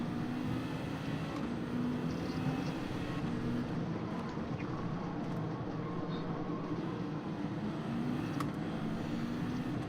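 A race car engine in Gran Turismo 7 on a Grand Valley highway drones steadily at speed, its tone rising and dropping gently as the driver shifts up early, with road rumble underneath.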